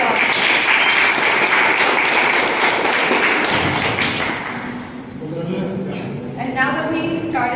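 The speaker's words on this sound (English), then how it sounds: "Can we have a round of applause?" A meeting audience applauds loudly and steadily for several seconds, dense clapping that fades out toward the end as a voice begins speaking.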